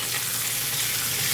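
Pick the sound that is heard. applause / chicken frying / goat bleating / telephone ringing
chicken frying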